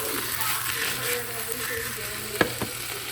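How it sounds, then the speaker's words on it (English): Steak strips sear in a hot pan with a steady broadband sizzle throughout, with a couple of sharp clinks or taps near the end and faint background voices. "I am going to cut up the steak into strips and then pan sear it real quick"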